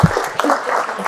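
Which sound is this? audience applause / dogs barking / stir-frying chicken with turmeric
audience applause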